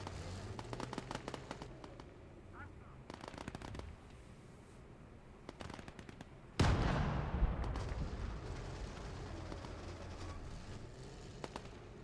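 Tank cannon fire in a World War II tank duel in Gates of Hell Ostfront, a dense rattle of shots followed by one heavy close blast that rumbles and trails off.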